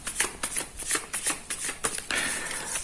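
Tarot cards being shuffled by hand, a run of crisp riffling and slapping bursts in quick irregular rhythm, close and fairly loud, ending in a steadier continuous riffle.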